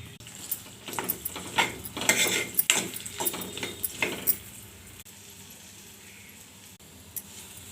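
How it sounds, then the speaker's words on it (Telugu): Pitted dates being fried in ghee in a pan for healthy laddu, busy scraping and clattering of a spoon against metal for about four seconds over a faint sizzle, then quieter with one last clink. "వేడి చేసుకున్న తర్వాత మనం పిక్కలు తీసి పెట్టుకున్న ఖర్జూరాన్ని వేసుకొని బాగా వేపుకోవాలి."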